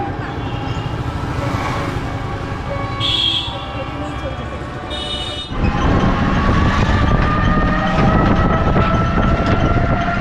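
A train rumbles and clatters nearby at Krishnanagar railway station at night, loud and continuous, with a brief high squeal partway through before the rumble grows heavier and louder.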